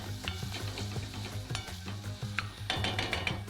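Minced shallots sizzling in hot oil in a pan while being stirred, a close, steady frying hiss broken by scraping and light clinks of a utensil against the pan.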